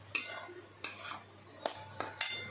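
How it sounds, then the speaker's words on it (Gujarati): Coconut modak mixture roasting in a pan and stirred with a utensil: four or five sharp, close scrapes against the pan at an uneven rhythm over a faint steady hum, with no talking. "આ રીતે તેને હવે સતત આપણે હલાવતા રહેવાનું છે જ્યાં સુધી માવા જેવું ના થઈ જાય ત્યાં સુધી"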